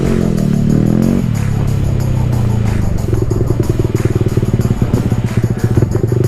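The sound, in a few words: modified Yamaha R15 V3 motorcycle with loud exhaust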